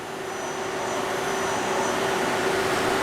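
A manual lathe spindle runs forward at set RPM, giving a steady, loud broadband whir with a constant mid-pitched motor tone that holds unchanged throughout.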